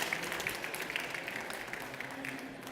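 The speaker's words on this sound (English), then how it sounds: "Round of applause, please." Applause from a conference audience at a startup pitch event greets a nanotechnology CEO coming to the stage, a soft, steady patter of many hands, fairly distant and even throughout.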